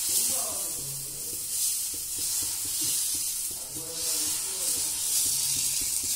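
Dosa sizzling on a hot tawa, a steady bright hiss of frying with soft scraping and clinks beneath, close and continuous.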